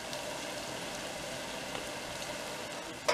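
Elongated ginger fritters deep-frying in oil, a steady fine bubbling crackle at low, even level, with a sharp clack right at the end.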